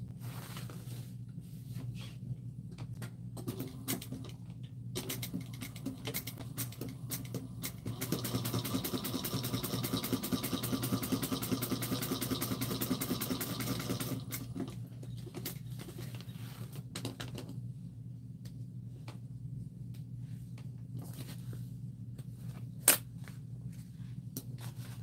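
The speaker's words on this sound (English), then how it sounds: "we're going to stitch from here to here. And I'm going to back stitch at the beginning and at the end" A sewing machine stitching fabric, a steady near mechanical patter that swells into a denser run in the middle, with short stitch bursts and pauses around it.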